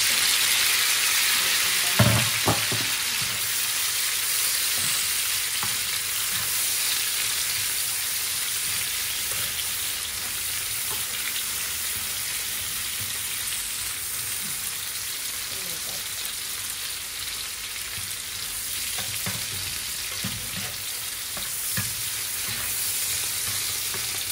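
Cherry tomatoes and garlic fry in a pan with a steady bright sizzle and crackle, close and continuous, with a few soft clinks from stirring.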